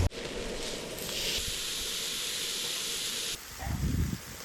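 Steaks and asparagus sizzling on a camp grill outdoors, a constant hissing sizzle that holds steady before stepping down, followed by a short rumbling clatter at the close.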